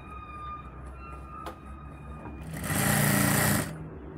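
A sewing machine stitches along the edge of an organza kurti collar neck, a brief loud rapid whirring burst after quiet handling and a faint tonal hum.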